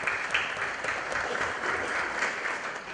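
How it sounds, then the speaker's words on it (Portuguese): Steady applause from an audience in a plenary session, dense and even, lasting the whole moment at moderate distance with no speech over it. "salva de palmas para a Silvia"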